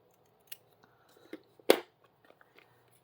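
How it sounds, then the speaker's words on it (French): Scissors snipping paper for a small yellow craft mail project: a few quiet, sparse crisp cuts, with one sharper, louder snip standing out among them. "Je vais prendre ce ciseau pour que ce soit un peu plus précis"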